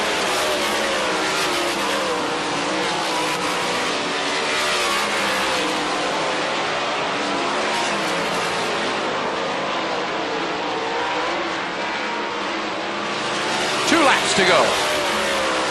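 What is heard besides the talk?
race cars in a heat race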